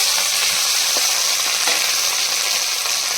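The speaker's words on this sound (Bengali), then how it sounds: "জিরে আর শুকনো লঙ্কা ফোড়ন দিয়ে দিয়েছি" Cumin seeds and dried red chillies sizzle in hot oil in a pan, a loud, steady, close crackle of frying with a few faint stirring taps and no voices.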